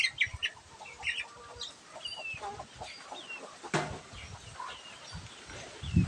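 Breeder hens, including brooding mother hens, on a backyard poultry farm cluck and chirp in a steady, busy chorus, with soft low thumps and rustling beneath and a louder burst near the end.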